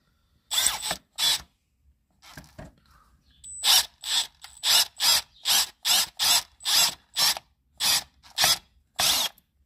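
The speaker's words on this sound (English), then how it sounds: "Brent drilled that one. I guess you saw him drill it." A power tool works in short repeated bursts on a Detroit DD15 engine cam holder with stripped threads, about a dozen sharp, evenly spaced pulses after a few scattered ones, close and loud in a quiet shop.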